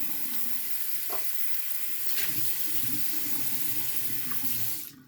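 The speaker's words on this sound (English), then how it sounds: "I'm getting my cotton all wet with warm water" Warm water runs steadily from a tap while cotton pads are soaked under it, a soft continuous hiss with faint splashes and no talking.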